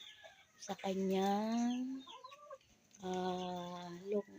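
A laying hen gives drawn-out, throaty clucking calls close by, two long vocalizations separated by a short pause, with no talk over them.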